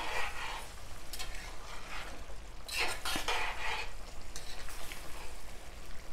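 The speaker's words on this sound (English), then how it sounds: "my pot is still boiling because my water is hot" A pot of water bubbles and sizzles up close while cooking vegetable curry, with soft clinks and stirring noises, irregular bursts over a steady hiss.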